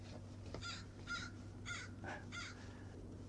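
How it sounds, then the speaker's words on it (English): A crow cawing repeatedly outdoors, about six harsh caws in an uneven rhythm at moderate distance over a steady low hum. "There's always a crow squawking around here all the time."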